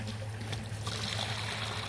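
Water from a garden hose trickles steadily through 8-ounce geotextile fabric for a French drain, giving a continuous, fairly soft hiss-like flow with no pauses or voices.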